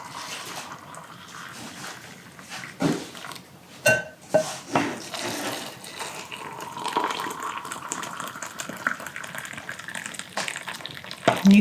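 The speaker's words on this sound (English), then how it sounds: "we're going to fill my jars" Black beans poured and scooped into glass canning jars, with clinks of glass and utensils, wet rattling and watery pouring sounds, and a few sharper knocks along the way, close and steady throughout.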